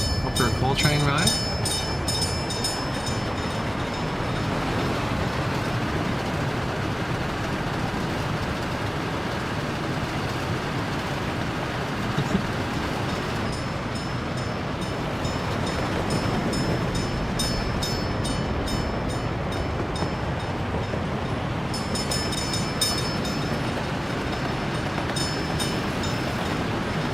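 Coal train rolling through a Workers and Resources game world, a steady dense rumble with rhythmic wheel clatter, held at an even level throughout.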